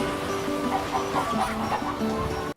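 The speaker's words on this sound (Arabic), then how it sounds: "طفل صغير ماشي يشد في دجاجة" A chicken clucks in a short series of repeated, moderately loud calls while a small child pulls at it, the clucks running over a busy background before cutting off abruptly.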